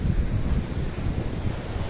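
Ocean surf washes steadily along a beach on a morning walk, a continuous broadband roar mixed with wind buffeting the microphone, with no voices.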